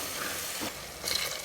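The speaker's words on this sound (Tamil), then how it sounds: "இப்போ இந்த மசாலா போட்டு ஒரு 2 நிமிஷம் ஃப்ரை பண்ணுவோம்." Masala frying in a pan as it is stirred, a steady sizzle with scraping stir sounds, heard up close without any talk.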